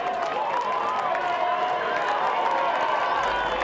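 A large crowd cheers and roars at a Bellarine Football League grand final between Queenscliff and Drysdale, a dense continuous wash of noise with scattered shouts, steady and loud throughout.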